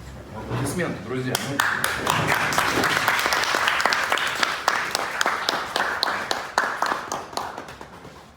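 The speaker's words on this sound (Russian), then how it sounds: "Аплодисменты, друзья." Audience applause at a tourism forum, starting as a voice fades and then swelling into sustained, dense clapping from a large crowd before gradually thinning toward the end.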